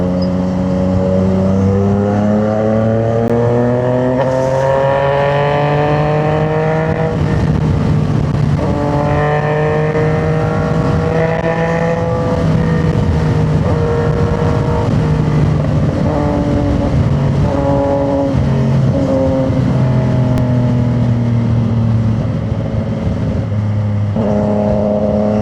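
A CFMoto 675 motorcycle at high speed holds a loud, steady engine drone close to the microphone, with the pitch rising and dropping through gear changes for the whole stretch, and no talk.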